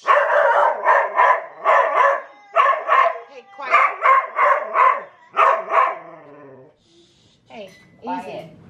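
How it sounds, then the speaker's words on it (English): A dog barks loudly and repeatedly at close range in a home, sharp bursts in quick clusters, then a brief whimpering whine as people's voices appear near the end. "I can't hear you talk to me when I'm at your house when he barks."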